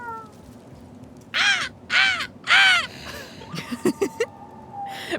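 Three loud, harsh crow caws ring out in slow succession, followed by a few softer, shorter calls and some clatter over quiet background noise.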